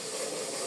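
Meat hits a hot pan of fried spiced chili and sizzles, a loud, dense, steady hiss filling the whole brief moment.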